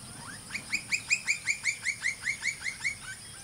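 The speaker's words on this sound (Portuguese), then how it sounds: "hoje trouxemos o pica-pau do campo" A campo flicker calls in a rapid series of about a dozen loud, ringing notes, evenly spaced and rising in a steady rhythm, with no other sounds around it.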